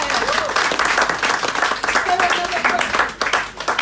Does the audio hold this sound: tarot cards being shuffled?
no